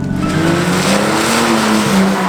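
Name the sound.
car drifting with tyre squeal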